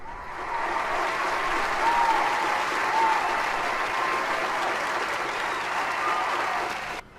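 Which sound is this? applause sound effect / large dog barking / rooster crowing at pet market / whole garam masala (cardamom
applause sound effect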